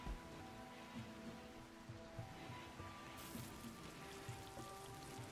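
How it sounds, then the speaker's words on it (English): Steady rain in the video game RimWorld patters and hisses across a broad wash of noise, continuous and moderately loud, with a low rumbling bed beneath and no voices. "now it's raining"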